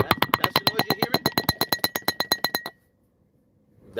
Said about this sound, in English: That was the rattling of my car and my drink.